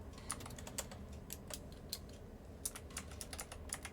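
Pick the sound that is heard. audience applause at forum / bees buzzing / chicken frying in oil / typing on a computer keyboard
typing on a computer keyboard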